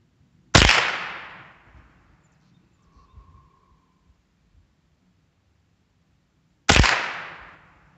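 Two sharp rifle shots from a Ruger .22 firing Auto Match rounds, about six seconds apart, each a loud crack with a short fading tail, separated by near silence.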